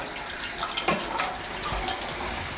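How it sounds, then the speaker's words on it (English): Water runs and gushes steadily close by as it is drained from a bowl of soaked matzo, a continuous splashing stream with small surges as it drains away. "And now we drain the water."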